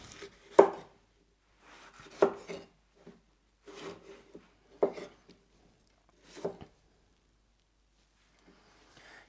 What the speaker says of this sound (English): this red, I'll cut off the cheeks